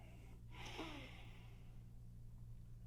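A slow, audible breath drawn in during a qigong exercise for anxiety, a soft airy inhale rising and fading over about a second against a low steady hum.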